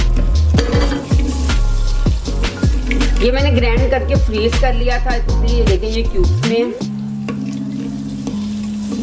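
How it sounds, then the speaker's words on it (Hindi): Garlic-ginger paste, frozen in cubes, sizzles loudly in hot oil in a pan with stirring and utensil clatter, while someone talks over the frying. "2 टेबलस्पून लहसुन अदरक का पेस्ट, वो ऐड कर देंगे"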